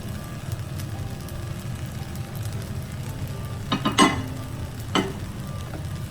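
Nasi goreng with scrambled eggs sizzling in a pan as it is stirred, a steady frying hiss broken by a few sharp scrapes of the spatula against the pan.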